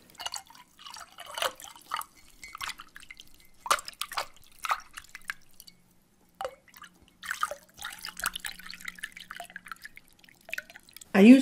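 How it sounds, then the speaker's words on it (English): Water dripping and trickling while being mixed with colour for painting, soft close splashes and drips scattered irregularly, with quiet gaps between them. "I'm mixing the water with colour. Water's amazing. It flows and it blotches"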